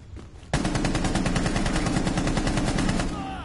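Sustained automatic gunfire from Rainbow Six Siege, a dense rapid burst that starts abruptly and rattles on loud and close for about three seconds before trailing off.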